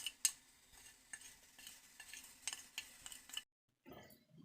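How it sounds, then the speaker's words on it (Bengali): A spoon stirs a ground spice mix into damp coriander leaves for a coriander leaf pickle, making soft scraping and clinking strokes in a steady rhythm. The sound stops abruptly, and a faint rustle follows. "এই মশলাটা ভালোভাবে মিশিয়ে নিব"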